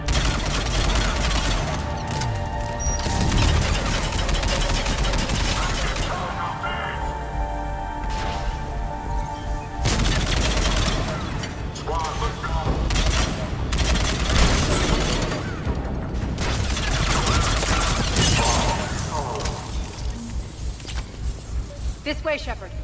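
Bursts of weapons fire and explosions erupt in a Mass Effect 3 battle, loud and chaotic, with rapid volleys broken by short lulls. Voices speak throughout the fighting.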